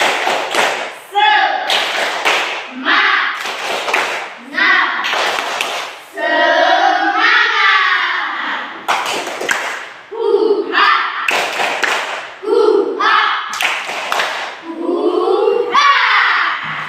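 A classroom rhythmic clapping routine, tepuk semangat, led by a teacher: bursts of patterned claps and thumps alternate with chanted voices of children and the teacher, lively and close.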